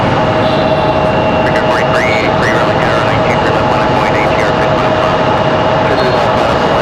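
A Republic Airways jet departing Raleigh-Durham airport gives a loud, steady engine roar that holds throughout, with someone talking and birds chirping over it.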